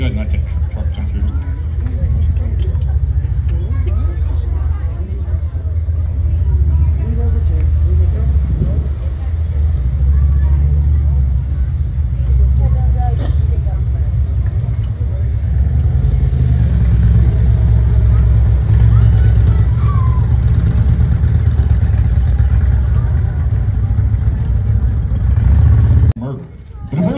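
A truck rumbles through the streets of Oatman, Arizona, its low engine drone steady and close beneath a constant crowd hubbub and nearby talk.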